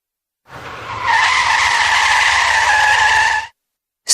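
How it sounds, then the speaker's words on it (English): A car skids with a long, loud tyre screech lasting about three seconds, a sustained high-pitched squeal over a low engine rumble, alone with no talk. "Screech."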